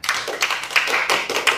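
A crowd at an Indonesian-language religious talk claps when prompted, giving a short burst of roughly seven crisp, uneven hand claps, close and moderately loud, with no talking over them.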